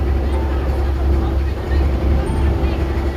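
A steady, droning boat engine on a racing boat rumbles continuously with a low, heavy hum, loud and close throughout.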